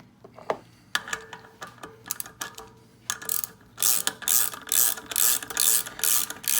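A hand ratchet clicks in short bursts while driving the main bolt of a valve spring installer down on an aluminum LS1 cylinder head, its pawl rattling close and loud in quickening strokes toward the end.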